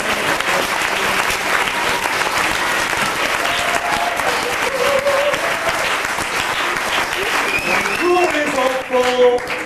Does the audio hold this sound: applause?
yes